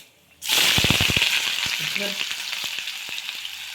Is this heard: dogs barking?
no